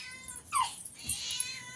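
A mother cat with her kittens meows once with a rising, whining cry, followed by a softer second mew in a quiet room.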